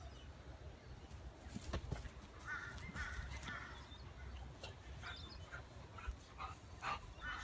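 A dog barks repeatedly outdoors in a family yard where a Husqvarna Automower robotic lawn mower is working. The barks come as a series of sharp bursts over steady background noise, with some harsh bird-like calls mixed in.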